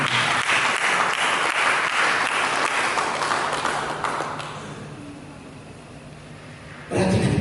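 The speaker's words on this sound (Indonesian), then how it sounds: "Berikan tepuk tangan." A church congregation applauds during a Sunday sermon, a dense, loud burst of clapping that gradually thins and softens before a sudden rise of room noise at the end.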